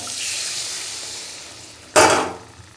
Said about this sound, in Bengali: এবার আমি জল দিয়ে দেবো মাছটাতে হালকা একটু গরম হয়ে যাক